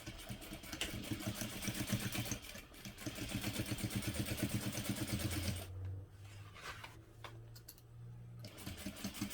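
A sewing machine running a short stitch length along a line on a vinyl tote, rapid even mechanical chatter in long bursts with a brief pause and a lower hum, close and clear, with no talking.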